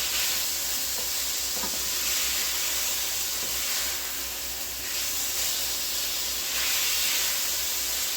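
Vegetables for a creamy mushroom chicken and wild rice soup sauté in a hot pan, giving a constant close hiss and sizzle with faint stirring scrapes now and then.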